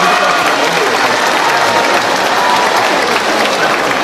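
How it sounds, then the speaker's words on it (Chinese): A concert hall audience at a Yue opera performance claps in dense, sustained applause, loud and even from start to finish, with a faint crowd murmur mixed in. "我们再次掌声响起"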